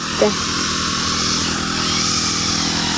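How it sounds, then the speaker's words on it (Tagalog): Gas-powered grass cutter trimming grass along a footpath leading to a hut, a steady, loud buzzing engine drone running throughout with a brief spike near the start, and a voice speaking over it. "Ginag-grass cutter na po niya."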